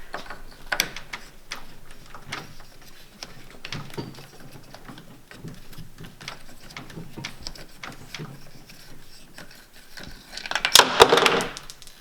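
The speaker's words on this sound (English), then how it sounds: "you're going to take your wheel wrench and you're going to take this nut off in there." A wheel wrench loosening a wheel nut on a Traxxas X-Maxx RC truck gives small metallic clicks and ratcheting taps, irregular and close, ending in a louder rattling clatter.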